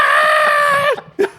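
A loud, sustained scream from the Grinch in a yoga class, one long strained harmonic cry that breaks off abruptly, followed by a short second yelp.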